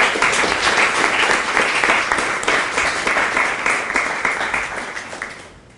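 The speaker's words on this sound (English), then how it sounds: "Could you please give her a clap here?" Dense audience clapping at a Palestinian House of Friendship event, loud and sustained from the start, then gradually thinning and fading toward the end, with no voices over it.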